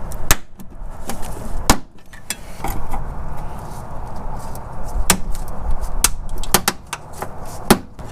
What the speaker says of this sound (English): he's going to get in between the fender well and the clip and pry it out